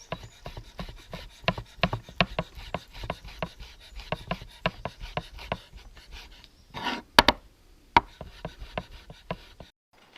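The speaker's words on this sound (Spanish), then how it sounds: "Ya tenemos listo y picado todo nuestro tocino." Knife chopping bacon on a cutting board, a steady run of sharp, close taps with a short pause of scraping, then more chops.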